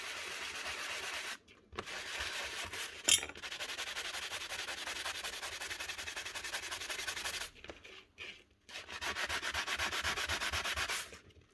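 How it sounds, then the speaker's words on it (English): A sanding block rubs steadily on the reed valve of a Paslode IM350+ nail gun, giving close, continuous gritty scraping strokes, with brief pauses near the start and again toward the end. "And your sanding block again."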